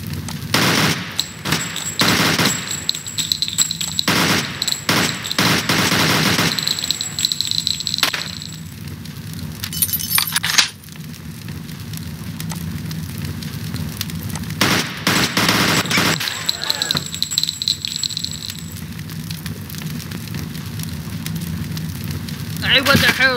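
Loud bursts of gunfire crackle in repeated clusters, mixed with a roaring fire-like rumble, from a comedic Wario scene; voices are heard between the volleys.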